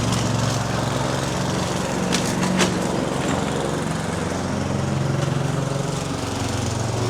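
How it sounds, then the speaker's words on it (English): A lawn mower cutting a neglected lawn on its highest setting to pick up debris, its engine droning loud and steady close by throughout, with occasional rattling as it passes over debris. "So the first thing we're doing is we're mowing on like a highest setting to pick up the bulk of any debris"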